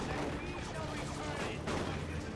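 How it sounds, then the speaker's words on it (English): Scout shotguns in Dawn of War 2 fire at close range during a 3v3 battle, a dense, fairly quiet rattle of overlapping shots and impacts mixed with battle noise and a brief louder burst near the end. "Right Lance is caught by scouts, doing a lot of damage close range with those shotguns"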